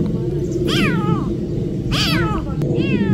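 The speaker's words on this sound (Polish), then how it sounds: "ty jesteś kotem z lasu" A lost kitten found in the woods gives three high, rising-and-falling meows spaced about a second apart, loud and close over a steady outdoor rumble.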